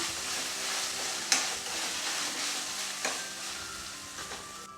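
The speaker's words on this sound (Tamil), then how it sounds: "புதினா தலை மிக்ஸ் பண்ணி விட்டுருங்க." Mint leaves are stirred into a frying samai millet vegetable rice mixture with ginger garlic paste, a soft steady sizzle under a few sharp scrapes and knocks of a spoon against the pan.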